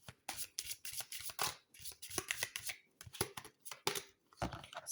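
Tarot cards being shuffled by hand during a general reading, a close, busy run of crisp riffling and slapping bursts, irregular and continuous with brief pauses between handfuls.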